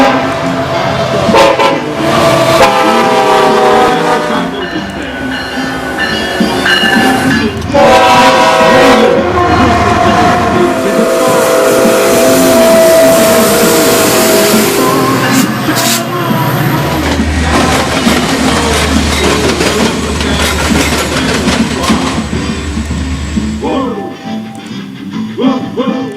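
A model train runs on a layout with a steady clickety-clack rumble of wheels over track, broken by repeated loud horn toots, all close and continuous.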